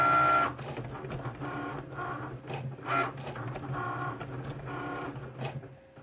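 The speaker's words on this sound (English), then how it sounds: "So it's just cutting our cute little hearts for us right now." A Cricut Explore Air cutting machine cuts paper hearts, giving a steady mechanical whir with repeated motor pulses and carriage movements, close and continuous.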